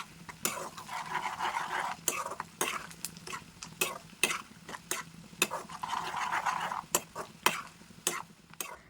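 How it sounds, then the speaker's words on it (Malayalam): Spices frying for a Kerala-style beef pickle, with a steady sizzle of oil under repeated scraping and stirring strokes of a spoon against the pan, close and fairly quiet, no talking. "അപ്പോൾ നമ്മൾ അങ്ങനെ നന്നായിട്ട് ഫ്രൈ ചെയ്തെടുക്കുക"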